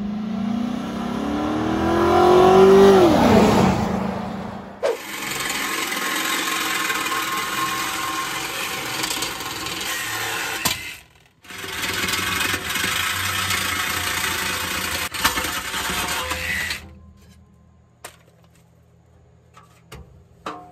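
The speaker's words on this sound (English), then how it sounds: "I could tell there was a difference in the engine noise." A GMC Sierra pickup engine, fitted with a heavy aftermarket muffler, runs and revs nearby. A rising rev is followed by a long, steady roar, which breaks off briefly and then settles to a lower idle near the end. There is no talk.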